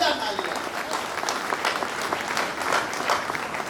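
An audience applauds a poet at a Jai Hind Abhiyan event with continuous, dense clapping held at an even moderate level throughout.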